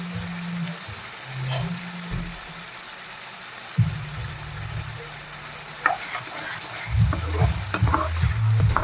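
Raw prawns fry in a pan with turmeric and salt for a mango curry, a continuous soft sizzle broken by scraping, clattering stirs that grow busier toward the end.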